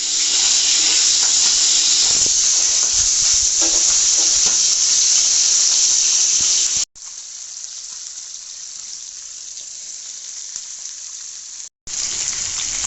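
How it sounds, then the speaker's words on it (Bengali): Small river tengra fish drop into hot oil for an eggplant curry, setting off a loud, dense, continuous sizzle and hiss that carries on steadily, briefly cut out twice, with no one speaking. "আমার তেলটা এখন গরম হয়ে গেছে, আমি মাছগুলোকে দিয়ে দেব।"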